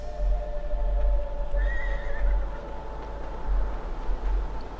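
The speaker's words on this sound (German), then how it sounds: "Da haben wir Pferdchen im Stall, oder?" A horse whinnies inside a stable in the video game Beyond Two Souls, one rising call heard clearly over a steady low ambient hum, with no other voices.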